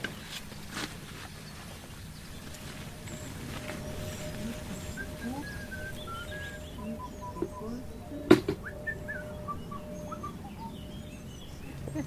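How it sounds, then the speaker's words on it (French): A European bee-eater calls outdoors with faint, scattered chirps and trills, most of them late in the stretch, over a soft background hiss. "on a un guépier d'Europe, c'est un oiseau super joli avec des ailes"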